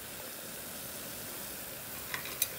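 Water heating in a pot for a dinner dish gives a faint, steady simmering hiss throughout, with two tiny ticks near the end.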